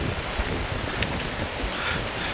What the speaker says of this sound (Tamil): பயங்கர காற்று அடிக்கலாமா